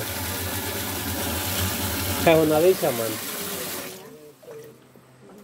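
Drinking water from a community water project runs and gushes steadily from a tap, then cuts off while someone speaks over it briefly.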